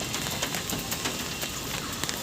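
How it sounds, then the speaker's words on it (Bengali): Heavy rain pours outside a roadside tea stall, a steady dense hiss of drops with scattered sharper patters, close and continuous, with no talk. "বৃষ্টি অজস্র পরিমাণে হয়ে যাচ্ছে"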